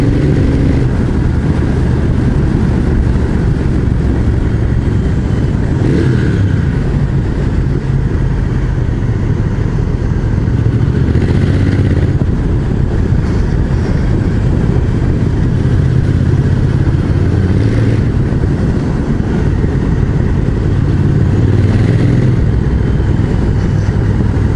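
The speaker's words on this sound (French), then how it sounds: "c'est surtout pour ma belle moto" A motorcycle ridden along a winding mountain road through Alpine gorges and passes makes a loud, continuous engine drone with wind rush, the pitch rising and falling as the rider accelerates and eases off, with no voices.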